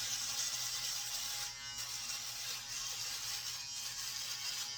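Electric shaver trimming a beard down to a chin strap, a steady close buzzing hum that runs the full length with slight dips in pitch as it presses against the hair.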